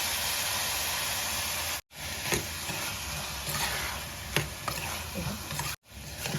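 Spiced potato and black-eyed bean curry, Kathiyawadi style, is stirred in hot oil, with a continuous loud sizzle and the scrape of a spoon in the pan, broken by two brief silent cuts.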